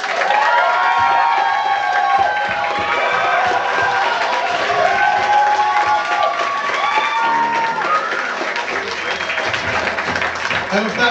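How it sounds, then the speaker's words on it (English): Audience applause and cheering for a live band on a local variety show, a dense continuous wash of clapping with whoops and shouts rising above it, steady and loud throughout. "a big old round of applause for my personal favorite band in the entire world"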